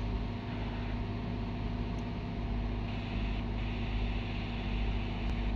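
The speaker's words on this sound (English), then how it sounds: "The engine really runs very nice." A light aircraft's piston engine runs in flight on MoGas Euro 98 fuel while descending to circuit altitude, giving a steady, loud, unbroken drone with a constant hum that fills the whole stretch.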